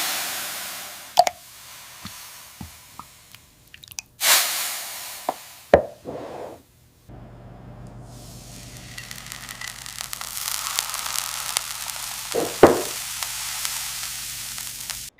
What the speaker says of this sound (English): The metallic crack and subsequent hiss signify the perfect seal